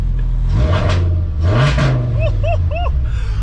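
VR5 engine in a Savoy car revs in two sharp bursts, rising and falling over a steady idle rumble, close and loud, with a few squeaky chirps near the end.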